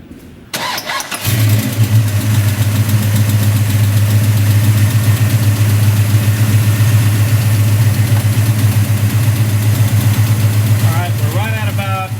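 A car engine fitted with a newly installed Street Demon carburetor cranks and catches, then settles into a loud, steady idle with a constant low hum close by. A voice is faintly audible near the end.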